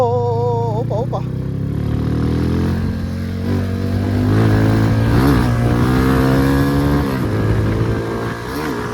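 A fully rebuilt, modified Suzuki Fiero motorcycle engine runs loud and close, idling with a throaty rumble and then revving up repeatedly in rising surges, while someone talks over it.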